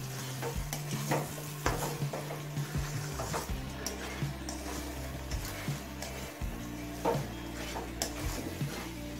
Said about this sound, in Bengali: এবার মিডিয়াম ফ্লেমে আরো কিছুক্ষণ ভেজে নেব।